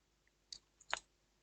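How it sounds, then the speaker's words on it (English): Two quick, faint key clicks from a computer keyboard as the Shift+I shortcut is pressed in STAAD Pro modeling software, a soft tap followed by a slightly sharper click in an otherwise quiet room. "So you click on Shift I."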